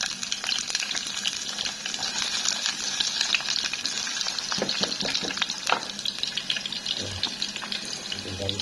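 Food frying in a small amount of oil gives a steady, close sizzle with bright crackling spatter throughout, plus a few soft clinks of stirring toward the end.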